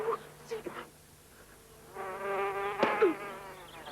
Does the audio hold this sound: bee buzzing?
yes